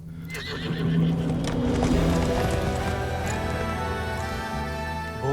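A horse neighs and its hooves clip-clop in a rural scene with zamindars and British colonial-era pursuers, with loud close whinnies over a rhythmic clatter of hoofbeats that carry on steadily throughout.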